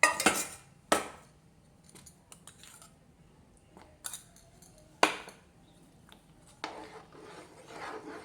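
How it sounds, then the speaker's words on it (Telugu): A spoon scrapes and clinks against a pan while cornflour halwa is stirred with ghee and sugar syrup, in sharp intermittent strokes with quieter rubbing in between. "మళ్ళీ ఇప్పుడు ఉండే పాకం మొత్తం పోసేసుకొని ఇంకొక స్పూన్ నెయ్యి వేసుకొని తిప్పుకోవాలి."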